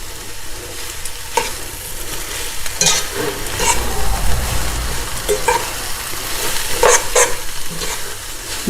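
Chicken chow mein noodles sizzling and frying in a hot pan while being stirred and tossed, a steady loud crackle broken by repeated scraping strokes of a spatula, with no talking.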